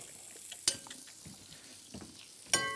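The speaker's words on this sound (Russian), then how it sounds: "Сковородка нам пригодится для поджаривания мяса." Olive oil heats in a frying pan for cooking meat, giving a faint, soft sizzle punctuated by a couple of sharp metallic clinks from a utensil against the pan.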